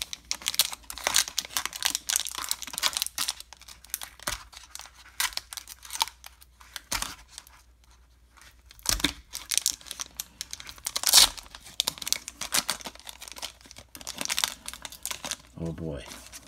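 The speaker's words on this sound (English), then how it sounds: "let's open the big pack here." A Magic: The Gathering Lord of the Rings card pack wrapper is crinkled and torn open up close, with repeated rustling, crackling foil and sharp rips coming in bursts while a person talks intermittently.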